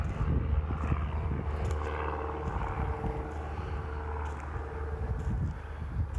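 Steady, loud aircraft roar from an airport right next door, a continuous low rumble with a jet-engine whine that fills the whole stretch without any talking.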